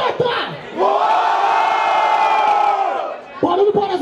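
Crowd at a rap battle cheering and shouting loudly in one sustained roar that builds and fades over a few seconds, with brief shouts before and after.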